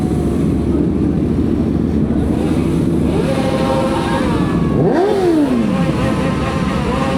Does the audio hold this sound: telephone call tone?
no